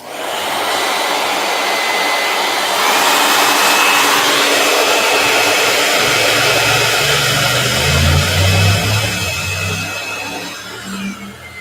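A hair dryer blows steadily and loudly for the whole stretch, its airflow roar and motor whine swelling slightly partway through, alone with no talk.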